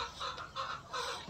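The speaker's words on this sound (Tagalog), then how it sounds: "Pagkaon taron sa atong manok." Backyard chickens in a coop cluck in short repeated bursts at close range, with no talk over them.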